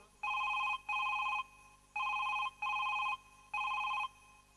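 A telephone rings in a rhythmic pattern of paired electronic bursts, three double rings with short gaps between pairs, clear and alone at moderate level during a Bengali jatra stage drama.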